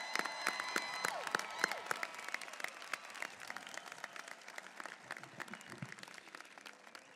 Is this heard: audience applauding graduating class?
yes